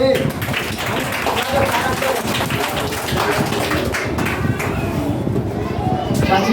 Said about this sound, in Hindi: रौनक के लिए जोरदार तालियां